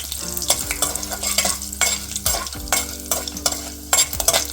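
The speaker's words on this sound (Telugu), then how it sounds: "నూనె వేడయ్యాక ఫస్ట్ అయితే తాలిం గింజలు వేసేసుకుందామండి ఎండుమిర్చి రెండు వేసుకొని కలిపేసుకోవాలి" Tempering seeds and two dried red chillies sizzle in hot oil for a sorakaya perugu pulusu, with steady frying hiss and repeated scraping stirs of a spoon in the pan, close up and with no voices.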